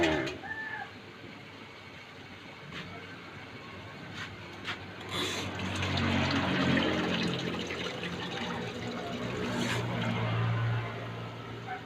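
Broth being poured into a cooking pot of chicken tinola, a steady liquid pour rising into a fuller splashing stream midway, close, with a brief cat-like squeak at the start.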